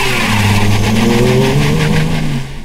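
A car engine revs hard and accelerates on a skid pad, its pitch climbing steadily in a loud, close, continuous roar.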